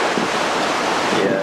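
Huge ocean waves pounding the coast, heard as a loud continuous wash of surf noise with some wind across the brief stretch.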